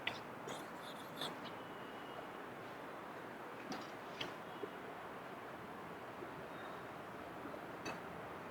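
Marker or chalk scratches across a board in a lecture hall, a few faint, short strokes near the start and middle over a steady room hum, with no voices.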